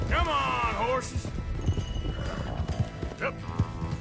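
A horse neighs loudly at the start, followed by rapid clip-clopping hooves of galloping horses and a few heavy thuds, with voices shouting over it, in the video game Red Dead Redemption 2.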